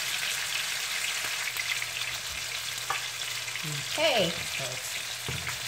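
Salmon fillet sizzling steadily in a hot pan, a continuous bright crackle with a few louder spits, while a voice briefly speaks over it.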